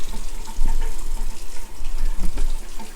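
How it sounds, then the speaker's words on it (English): Water runs steadily from a kitchen faucet into a flooded, clogged apartment sink, a continuous splashing hiss, close by and fairly loud, with no talking. "got the water running"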